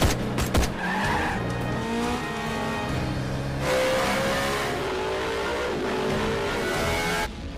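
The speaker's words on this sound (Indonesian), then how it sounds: "Malik yang melihat hal itu langsung mengejarnya dengan mobil" Cars in a high-speed chase scene from the Malaysian gangster film KL Gangster, with loud engines, squealing, skidding tyres and revving under a dense action soundtrack, several sharp bursts near the start, no talk.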